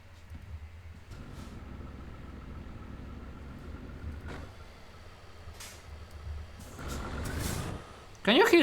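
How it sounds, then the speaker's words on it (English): An old, dying engine idles in a steady low rumble with a faint whine, some brief hissing releases and a rising surge near the end, heard at a moderate distance before a voice cuts in. "Can you hear the engine like..."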